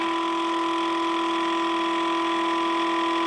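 RomeroUK motor/generator spinning at about 2500 RPM, a steady, even electric hum with a sustained tonal whine, unchanging throughout, close by, no talking.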